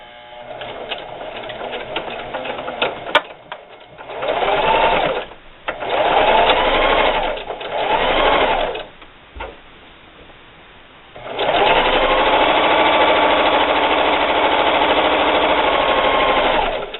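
A sewing machine stitches a fabric holiday gift bag in several bursts of fast mechanical whirring, with short pauses between runs and a longer steady run at the end.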